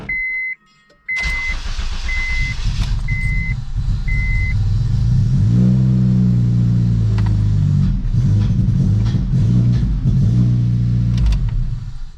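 Acura RSX with a failing fuel pump starting up after chime beeps, a brief crank then a loud idling engine revved repeatedly, its pitch rising and sagging as it stumbles.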